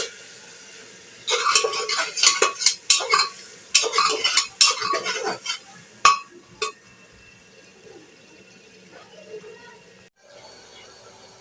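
Shrimp with salt and spices stirred in a cooking pot, a burst of loud scraping and clinking of a utensil against the metal pot, then quieter sizzling with a few sharp knocks.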